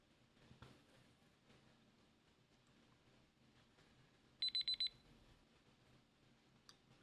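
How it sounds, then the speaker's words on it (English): A game timer alarm bursts out in a quick run of four sharp electronic beeps during a tabletop X-Wing match, clear over quiet background murmur. "Timer has gone."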